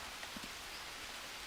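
Rain in the jungle survival game Green Hell: steady, even hiss of falling rain with faint scattered drop patters, continuous and fairly quiet, with no talk.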